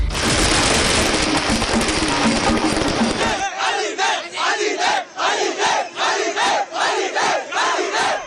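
A dense, loud crowd roar of film fans in a cinema fills the first few seconds, then gives way to rhythmic repeated chanting or cheering bursts from many voices.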